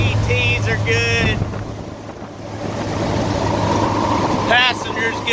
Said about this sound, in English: OM617YJ Mercedes diesel, turbo diesel swap, cruising 75 on the highway.